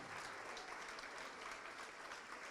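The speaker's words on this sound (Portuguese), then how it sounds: "vamos aplaudir ao nome de Jesus por cada vida que está chegando" A church congregation applauds in a steady, dense wash of clapping, continuous and fairly quiet throughout, with no voices on top.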